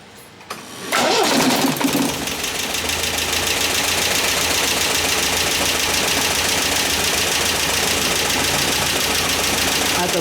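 An MGB Roadster engine cranks briefly, catches and starts, then settles into a loud, steady, even idle that runs on without a break.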